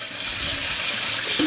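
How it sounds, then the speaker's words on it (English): Cold tap water running steadily into a sink while beans are rinsed, a close, even gush with no one talking. "make sure to rinse the beans with some cold water"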